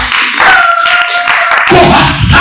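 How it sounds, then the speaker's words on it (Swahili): A church congregation claps for Jesus during worship, a quick run of hand claps close and loud over a sustained tonal sound and a murmur of voices. "Hebu pigie Bwana makofi zaidi."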